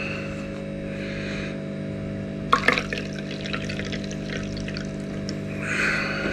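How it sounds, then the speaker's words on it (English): Distilled water is poured into a container during a silver recovery setup, giving short bursts of splashing and trickling over a steady electrical mains hum, with a louder pour in the middle and a softer one at the end. "top it up with some distilled water"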